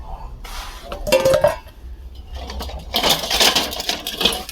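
Old-style kadai pans handled at a used-goods stall from ship breaking, giving a series of close metallic clanks and clinks in irregular bursts, with brief quieter gaps between the clatters.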